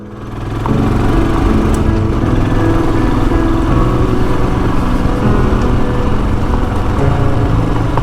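A motorcycle engine drones loud and steady while riding on a warm day, starting up within the first second and then holding a constant rumbling roar with no talk over it.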